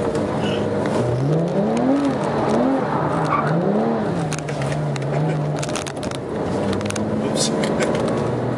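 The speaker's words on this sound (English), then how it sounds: "呢個車啱啱踩得太大油嚟噶" A car engine revs hard and accelerates, its pitch climbing and dropping in repeated sweeps before holding a steady drone, loud and close throughout.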